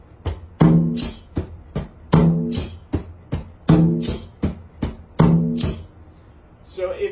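Sixteenth-note drum exercise with one accent per group falling on the fourth note, played as a steady grid of close, sharp strokes with a regularly recurring louder hit; no talking over it.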